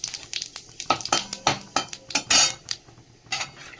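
Panch phoron spices and a bay leaf drop into hot oil left from frying fish, giving a crackling sizzle with irregular pops and spoon-against-pan clinks over a few seconds, close and fairly loud.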